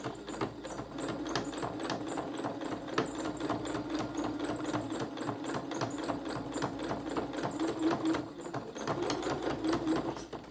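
A sewing machine stitches around the final line of a quilted pumpkin hotpad, running as a steady, close, rapid mechanical clatter with evenly spaced needle beats for the full stretch, with no talking.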